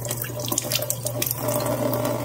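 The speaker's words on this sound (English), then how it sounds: "So we'll just put some water through that. And it is dripping." Water running through the drain of a Samsung fridge being defrosted, a steady splashing flow that continues for the whole stretch without talking.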